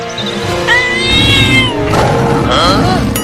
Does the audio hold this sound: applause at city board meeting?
no